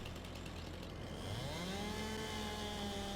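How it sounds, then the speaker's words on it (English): A chainsaw in a logging video game revs up and cuts wood, its whine rising and settling into a steady buzzing drone, faint and continuous with no talk. "They did a really good job on the sounds of the chainsaw"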